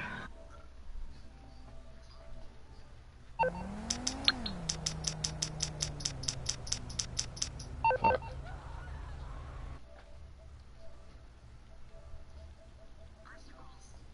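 A phone call placed during a video game heist chat, with a rapid sequence of about a dozen evenly spaced dialing tones followed by ringing, heard over faint background game hum and voices.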